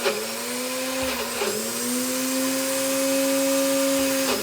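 A blender whirs steadily, up close, as it mixes a thick low carb smoothie. A strong motor hum dips briefly as the blades bog down, then runs on, with no talking.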